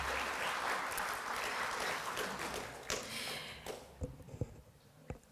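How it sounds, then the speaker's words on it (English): Indoor audience applause for a Prime Minister opening a conference, fairly loud at first and then thinning out into a few scattered, separate claps at the end. "Let's give the Honorable Prime Minister a big round of applause"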